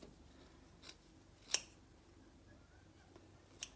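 Faint, sparse snips of scissors trimming material for DIY Mickey Mouse ears, with a few isolated sharp cuts, the clearest near the middle, in a quiet room.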